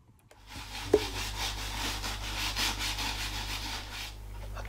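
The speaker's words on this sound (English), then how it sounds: "We flattened all those hardened fibers down and I'll give it a wipe down." Cloth rubbed steadily over the wooden surface of an old watch box during restoration, a continuous close scrubbing swish lasting several seconds after a brief knock, with no voices.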